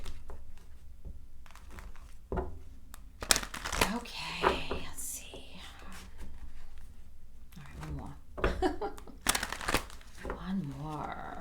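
Tarot cards being shuffled by hand, with riffling, crinkling bursts and slaps scattered across the clip while a person talks over them.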